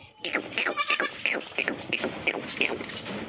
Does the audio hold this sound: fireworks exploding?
no